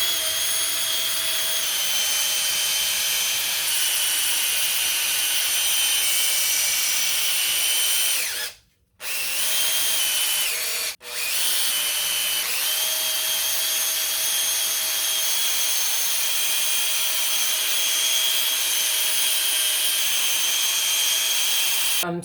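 Power sander with a 2000 grit disc polishing an aluminum intake manifold cover plate from a 3.5L 2004 Saturn Vue, running as a loud, continuous high-pitched whine for over twenty seconds with two brief cutoffs.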